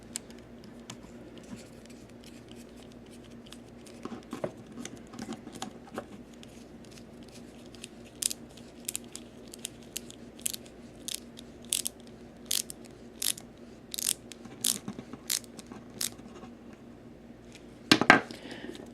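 Small screw being driven into a plastic Transformers Prime Airachnid deluxe toy during a repair, giving a series of faint, close ratcheting clicks in a steady rhythm over quiet background, ending with a brief louder scrape.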